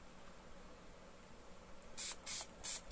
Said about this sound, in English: I'm just going to give it a little spray with some water